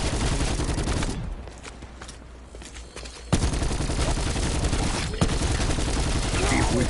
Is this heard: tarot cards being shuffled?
no